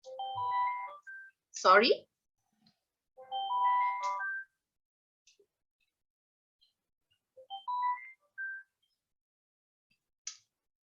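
A phone ringtone sounds in bursts of bright melodic electronic tones during a breast cancer lecture, interrupting a speaker's talk, with a short apology spoken between rings.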